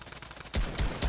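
Gunfire in the video game Fortnite: a short ambient bed, then three quick, punchy shots in close succession, with no talk.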